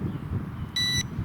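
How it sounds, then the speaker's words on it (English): A carp fishing bite alarm gives a single short electronic beep over faint outdoor background noise. "Let's get the old beepity beeps going"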